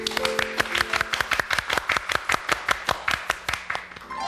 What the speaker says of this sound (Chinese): 比如说 各位掌声鼓励。